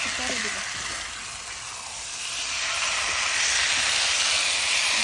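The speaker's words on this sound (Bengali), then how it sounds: "এখন মাংসটা কষাই নেই ভালো করে" Meat, cooked with potatoes, sizzles loudly and continuously as it is sautéed in a pan, a close, dense hiss that swells slightly toward the end.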